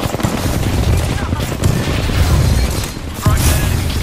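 Gunfire in the video game Apex Legends crackles in rapid bursts of automatic fire, loud and close, with short pauses between volleys and a few sharper booming hits.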